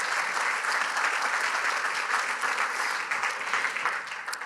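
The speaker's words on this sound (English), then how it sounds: "give yourselves a big round of applause" Sustained audience applause at a fundraising event, a thick steady roar of many hands clapping that eases slightly toward the end.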